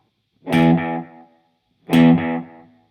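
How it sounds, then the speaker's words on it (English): Two separate guitar notes played through a short delay pedal, each struck loud and bright and followed at once by a couple of quick, fading repeats, with a pause of silence between the two. "So you hear the note repeat about twice. So I hit the note and then it goes bump, bump afterwards. So this is a shorter delay."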